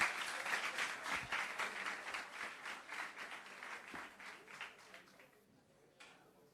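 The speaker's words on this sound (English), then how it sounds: "Guys, give yourselves another round of applause," High school students applaud in a lively burst of clapping that is dense at first, then thins out and fades over several seconds.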